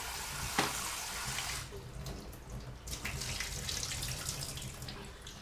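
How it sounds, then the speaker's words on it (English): Tap water runs into a bowl as chili pepper seeds are rinsed out, a continuous splashing gush with a sharp clink early on and shifting flow as the pepper is moved under the stream. "Just put it in the bowl, rinse all the seeds out of them."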